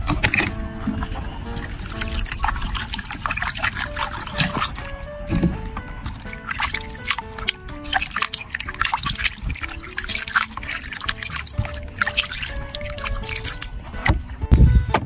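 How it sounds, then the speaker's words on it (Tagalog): Water splashes and trickles as raw liver is rinsed a second time in a kitchen bowl before marinating, with irregular sloshing and dripping sounds close by throughout. "Yan, pangalawang banlaw."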